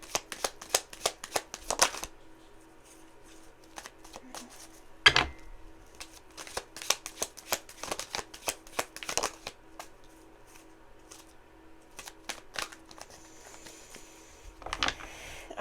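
Playing cards riffled and shuffled by hand in bursts of crisp flutters and snaps, with a few sharp card slaps between them, all close and fairly quiet with no talking.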